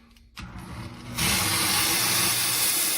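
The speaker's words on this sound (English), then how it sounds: "Gets up to speed, we get some steam." A Dayoo handheld steam cleaner starts up with a low motor hum, then bursts into a loud, steady, broadband hiss of steam that continues unbroken, close by with no talking.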